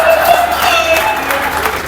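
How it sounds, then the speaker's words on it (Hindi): A crowd claps at a Hindi comic poetry recital in Etawah, dense continuous applause filling the space, heard up close and loud, with voices mixed in. "ये जो जिन्होंने हाथ उठा के ताली बजाया है"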